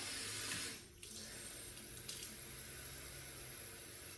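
Water running from a tap to fill a water flosser tank, a steady close rushing splash with a brief change in flow near the start, continuous throughout.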